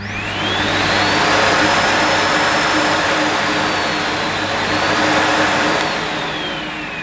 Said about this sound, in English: The cleaner does have a delay start